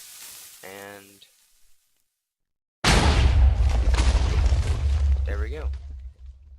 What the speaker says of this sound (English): place the TNT here. Now it's ready to fire